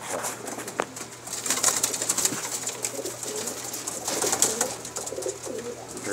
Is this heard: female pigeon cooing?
yes